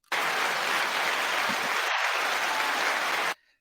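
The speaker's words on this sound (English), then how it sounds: "You got your first applause of the day." Applause greets an entrepreneur as he is introduced, a uniform, dense wash of clapping that starts abruptly, holds steady for about three seconds, then cuts off, with no voices over it.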